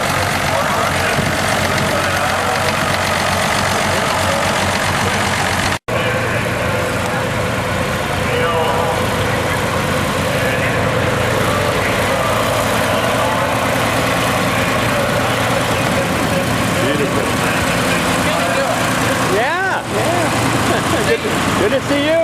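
A 656 diesel tractor with a side-mounted sickle bar hay mower runs at a steady idle, a loud continuous low rumble with knocking throughout, and a brief cut partway through.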